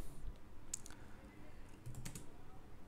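Computer keyboard typing, soft scattered key clicks in a short quiet burst, close and faint with no voices.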